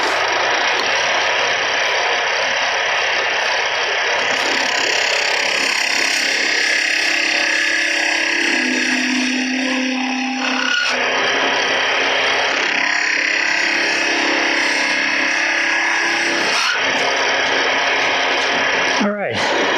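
Wood lathe making the final cut on a turned wooden top: a steady, loud whirring hum with a tool scraping and cutting against the spinning wood, continuous for the whole stretch with brief shifts in tone.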